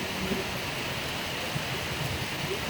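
Steady rain pours down in sunshine, a soft continuous hiss of drops with no breaks or voices.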